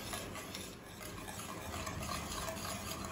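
Milk and sugar being stirred in a pan over a low-to-medium flame to make condensed milk, a faint, steady swishing and scraping with no other sounds.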